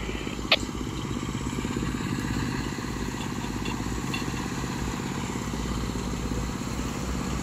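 A vehicle engine runs steadily and close by at a backup job in Kuala Tahan, a constant mechanical drone with one brief clack near the start and no voices.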